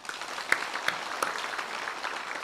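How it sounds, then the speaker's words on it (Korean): A church congregation applauds, a soft, even patter of many hands clapping, fairly distant, with a few sharper claps standing out. "박수 쳐 주시기를 바랍니다."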